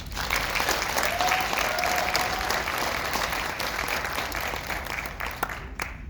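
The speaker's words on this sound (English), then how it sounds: "Let's give them another round of applause" Audience at a school music honor society induction ceremony applauding student performers, a sustained, even roar of many hands clapping that fills the room, with a faint voice briefly underneath.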